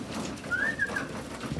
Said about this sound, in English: quick video of my birds feeding, my young birds, my 2022 birds feeding after about a 3-hour fly.